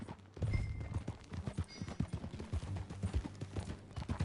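Steady clip-clopping horse hooves in Red Dead Redemption 2 over low rumbling game ambience, a continuous trotting rhythm with a brief tonal chime near the start.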